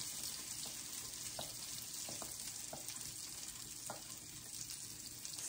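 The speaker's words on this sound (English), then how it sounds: "Can you hear that sizzle?" Appalachian cornbread batter sizzles and crackles steadily in a hot skillet, with a soft, constant frying hiss and a few faint clinks.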